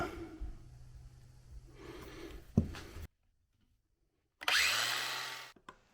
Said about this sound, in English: I'm just going to line that up and then grind some plastic out.